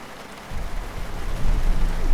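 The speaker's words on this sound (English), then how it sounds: "my brand new truck is getting rained on" Rain patters steadily on a truck in Euro Truck Simulator 2, a dense broadband hiss with a low rumble that swells louder after a quieter start and carries on without any talking.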